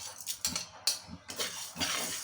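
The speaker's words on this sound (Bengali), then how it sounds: "এখন কলার ডালগুলো দিয়ে দেবো।" Dry kalai dal lentils are tipped into a hot pan, giving a few quick rattling clinks and scattered patters in a short burst.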